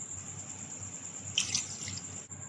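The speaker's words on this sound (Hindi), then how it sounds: "अब मैं चिकन की ग्रेवी के लिए आधा कप पानी ऐड करूँगी।" Half a cup of water being poured into simmering chilli chicken gravy in a pan gives a brief, soft splashing gush partway through, set against a quiet kitchen background with a faint steady hiss and no talking.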